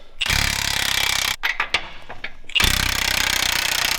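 A loud power tool, likely an impact wrench, rattles hard on U-bolt nuts of a 2024 GMC 3500 truck in two long bursts, with short clanks and taps between them and no talking.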